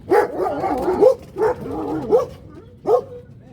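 Several dogs bark in short, loud bursts about four times, with yelps and whimpering cries between them, close by and with no talking over them.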